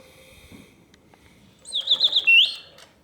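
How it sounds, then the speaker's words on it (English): A vintage Reuge gold-plated double singing bird cage automaton sings a quick run of bright warbling chirps near the microphone after a quiet pause, the bellows-driven song rising and ending abruptly. "So the birds will sing,"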